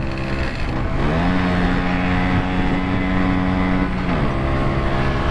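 A 1975 Vespa Super scooter engine runs hard during a top speed test, a loud, steady droning whine under heavy wind rush, its pitch shifting midway as the gear changes.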